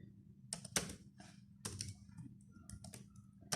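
Typing on a computer keyboard into Notepad: irregular bursts of crisp key clicks over a steady low hum, close but quiet, with no speech.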